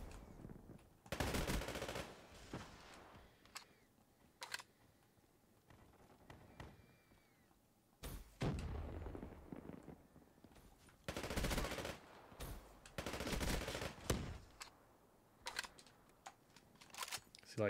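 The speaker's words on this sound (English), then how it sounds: "Even though I shot him twice before he even pulled the trigger." Call of Duty: Black Ops 3 gunfire with XPR sniper play comes as sharp bursts of shots and clustered volleys spread through the stretch, with quieter gaps and background game noise between them.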